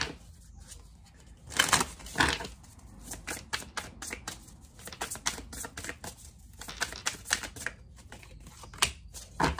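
A deck of tarot cards is shuffled by hand, with a series of close, crisp riffling bursts and soft slaps coming in uneven flurries with short pauses between them.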